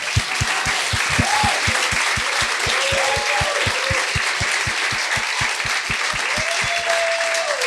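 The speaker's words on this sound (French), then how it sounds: "J'aimerais ça qu'on leur donne une bonne main d'applaudissements." Studio audience applauding two guests of a Quebec talk show, dense steady clapping filling the room, with a regular low thumping beat running underneath and brief voices or cheers rising through the applause.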